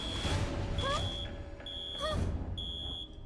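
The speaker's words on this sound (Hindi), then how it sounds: "ये लो जी, अलार्म बजने लगा।" An alarm sounds in an animated Hindi cartoon, a shrill electronic beep that repeats in short, even bursts under animated voices, fairly close and loud.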